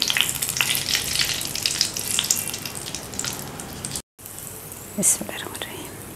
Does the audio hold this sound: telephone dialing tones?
no